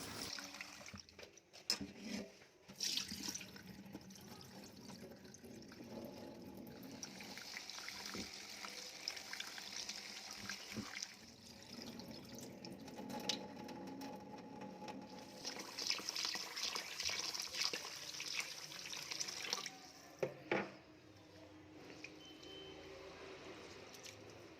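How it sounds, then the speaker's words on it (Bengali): Rice washed by hand in water for egg and pea pulao, with sloshing, pouring and trickling that swells and fades in waves, close up and without talk. "তো এবার আমি চালটাকে ভালো করে একটু ধুয়ে নেব।"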